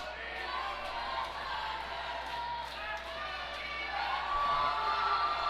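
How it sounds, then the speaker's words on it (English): Mixed crowd of Eagles and Clemson fans at a college sports game, their rival chants blending into a steady, loud roar of many voices that swells slightly near the end. "now we have our own chanting war in the crowd"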